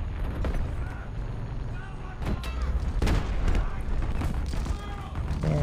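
War Thunder Mobile tank battle with heavy cannon booms and impacts scattered through rumbling engine noise, several loud shots landing close, while a player talks throughout.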